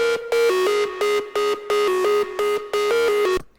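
A more distorted drum and bass synth lead repeats a staccato melodic phrase, harsh and gritty, with short bright notes in a regular rhythm, loud and alone before stopping abruptly.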